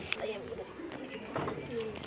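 A white female pigeon cooing softly in a few short, low, throaty calls, close by and faint, with someone talking over it.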